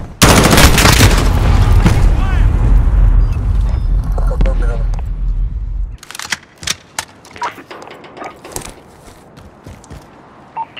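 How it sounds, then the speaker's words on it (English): Cruise missile strike in Call of Duty: Modern Warfare multiplayer: a roaring, sustained explosive rumble for several seconds, then sharp scattered blasts and gunfire as the barrage tails off. "Cruise missile, go for launch."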